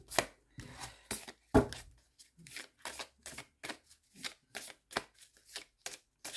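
Tarot cards being shuffled by hand, a series of quick crisp riffles and taps in an irregular rhythm, close and fairly clear, with short silent gaps between bursts and no voice.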